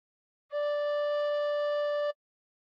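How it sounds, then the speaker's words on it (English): One sustained recorder note held about a second and a half, played with the thumb hole pinched and fingers one to six covering the holes; clean, steady and alone. "pinching the thumb hole, put fingers 1 to 6 on holes 1 to 6 and blow once"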